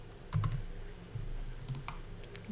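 Keys on a computer keyboard tapped in a few quick clusters while entering input into a Python program, soft and close, with no voices.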